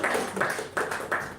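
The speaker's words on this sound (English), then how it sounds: "This is not the clap for the TD master." Short bursts of audience clapping at a Toastmasters club meeting, a few uneven waves of claps in a room, moderately loud with no talking over them.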